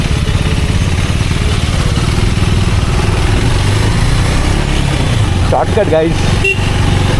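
A Yamaha RX100 two-stroke motorcycle engine runs loud and steady throughout, with a raspy, buzzing drone close by, while someone speaks briefly over it near the end.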